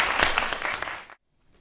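Audience applause for the introduction of keynote speaker Howard Lyman, a former cattle rancher, at a sustainability event: dense, steady clapping from a crowd that stops abruptly after about a second, leaving near silence.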